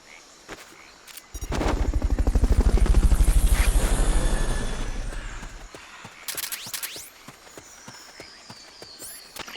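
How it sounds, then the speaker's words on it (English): A helicopter's rotor chop from Metal Gear Solid: Peace Walker swells loudly for a few seconds and then fades, surrounded by sharp clicks and short bursts of game gunfire. "Fulton recovery helicopter is complete."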